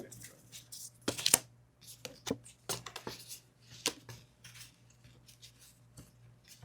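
Playing cards slapped and slid onto a tabletop one by one in an irregular rhythm of sharp, close taps during a tabletop war game, with a faint steady hum underneath.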